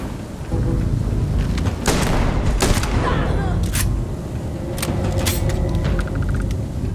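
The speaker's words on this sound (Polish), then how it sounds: "Ta chyba już eksplodowała." A deep rumbling blast with crackling debris rolls over a noisy background in the game Starfield, followed by scattered popping shots.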